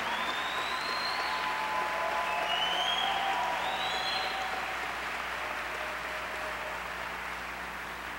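Sustained applause from a large audience at an NAACP annual convention, a dense steady clapping wash lasting throughout and tapering slightly at the end, with faint whistles on top.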